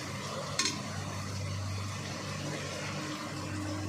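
Spice paste frying in a pan while being stirred, a steady close sizzle with scraping stirs and one sharp clink near the start, alongside a low constant hum.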